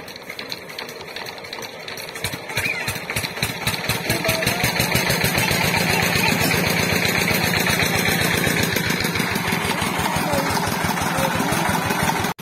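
A motorbike engine idles then revs into a steady, rapid putter, loud and close, running continuously with faint background voices at the start.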